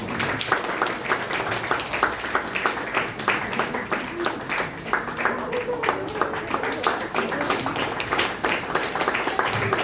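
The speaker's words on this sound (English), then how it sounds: "With a big round of applause." An audience at a pharmacy institute's entrepreneurship workshop applauds, a dense steady wash of many hands clapping that is loud and continuous throughout, with a hint of voices mixed in.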